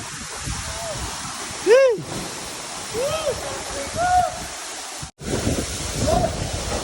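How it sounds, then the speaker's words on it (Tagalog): Powerful waterfall in Negros, a loud, close and constant roar of crashing water, with people talking and calling out over it. "Grabe Grabing bato ng tubig"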